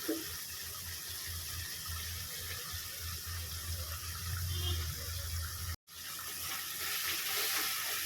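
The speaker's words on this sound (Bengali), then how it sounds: "এবার দিয়ে দেব এই পেস্টটা নাড়াচাড়া করে নেব" Spice paste for a prawn yogurt curry is stirred in a hot frying pan, a continuous soft sizzle with faint scraping, briefly cut off near the end before resuming.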